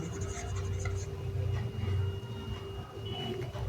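Pen or marker writing on a board during a maths lesson, a faint continuous scratching and rubbing over a steady background hum.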